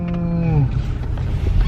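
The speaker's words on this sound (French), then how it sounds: "Ça, c'est la vache." A cow gives one loud, close moo that falls in pitch and fades, followed by low farmyard background noise.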